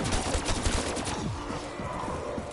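Rapid automatic gunfire in the Black Ops 3 zombies mode on the Kino der Toten map, dense and loud bursts that fill the clip and then thin into trailing shots and game noise.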